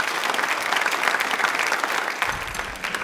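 A studio audience gives a loud, sustained round of applause during a televised quiz on tribal heritage, dense clapping filling the clip, with a heavier low rumble of claps joining near the end.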